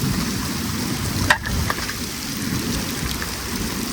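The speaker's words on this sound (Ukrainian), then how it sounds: "Дощ почався" Heavy downpour falling on a lake during a fishing trip, a dense steady hiss of drops striking water close by, with a brief knock of handling partway through and no voices.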